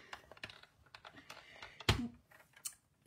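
Paper being cut for a handmade latte-themed comfort card, a sharp close snip near the middle among light rustling and handling noises, with a faint click toward the end.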